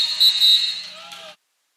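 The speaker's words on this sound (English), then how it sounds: "Shot clock violation, but a whistle right before the buzzer." A referee's whistle at a men's college basketball game gives one shrill blast of just over a second, loud and then cut off.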